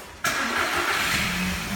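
A convertible car's engine cranks and catches abruptly, then settles into a loud, steady close-up idle with a slight rise in pitch, no voices over it.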